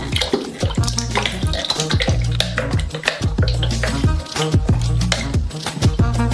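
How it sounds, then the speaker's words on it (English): A spoon stirs chocolate melting in a heated pot, making repeated quick scraping clinks in an irregular rhythm, close and fairly loud over a steady tonal background. "Turn it on so that it starts to heat up, and stirring constantly, melt that chocolate"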